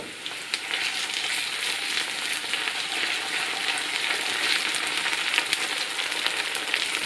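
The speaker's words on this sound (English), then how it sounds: "Now we add the ginger and garlic paste and let that sizzle for a bit." Ginger garlic paste sizzles hard in a pan with fried onions, a dense, steady crackling hiss that stays close and loud throughout with no voices.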